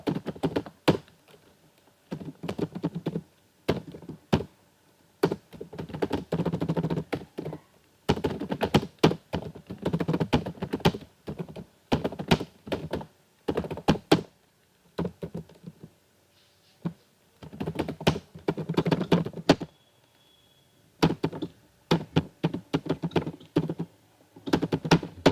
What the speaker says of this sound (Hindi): मैं फटाफट टाइप कर लेता हूँ, ठीक है।